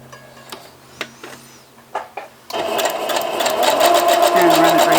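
After a few soft clicks, a sewing machine fitted with a quarter-inch presser foot starts stitching a fabric leader, running in a loud, steady, rapid whir close by.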